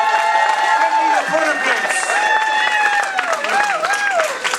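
Audience applause and cheering at a Hollywood 50th anniversary event for a tribute band, a steady crowd wash with whistles and a voice talking over it.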